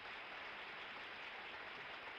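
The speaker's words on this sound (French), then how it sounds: "Veuillez applaudir Jack Ehrlich." Steady applause from a television studio audience greets a guest being introduced on a late-night talk show, a dense even wash of clapping that holds at constant level without voices.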